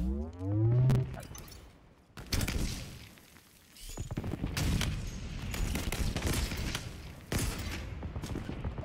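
Halo Infinite burst-fire weapon shooting in repeated short volleys, loud and close, with heavy gunfire clusters and impacts spread across the stretch against game ambience.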